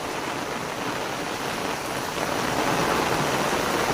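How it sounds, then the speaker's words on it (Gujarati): Heavy rain pours down steadily outside in North Gujarat, a dense, loud hiss of downpour that swells slightly louder toward the end, with no voices. "જબરજસ્ત એકદમ જોર સ્પીડમાં વરસાદ ચાલુ થઈ ગયો છે,"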